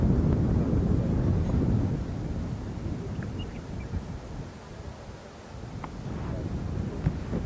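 Gusty wind buffets across an open golf course in Kenya, a steady low roar of rumbling gusts that swells loudly at first, eases off, then builds again, with no voices.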